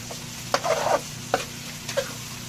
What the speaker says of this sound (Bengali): এখন একটু নেড়ে চেড়ে দেখবো, এরপর নামিয়ে নেব